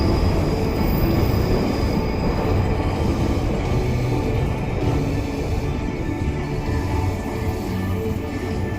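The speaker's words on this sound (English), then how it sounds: "Bye bye disco train." A Tokyo Ginza Line subway train rolls past at a station, a dense steady rumble and rattle of wheels and cars that stays loud throughout, with no talk.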